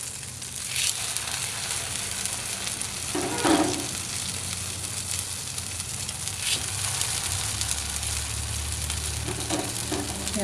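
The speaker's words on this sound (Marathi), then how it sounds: "आणि असं फ्राय करायचं। थोडा वेळ छान खरपूस भाजायचं" Egg-dipped bread slices frying in a hot pan, a steady soft sizzle that runs throughout with occasional louder crackles and spatters, heard close with no talking.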